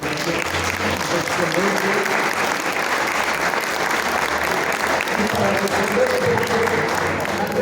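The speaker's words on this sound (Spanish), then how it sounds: "Yo les pido un aplauso para los compañeros." An audience applauds the speakers at a book presentation event in a hall, with loud, dense, steady clapping that fills the whole stretch and no speech over it.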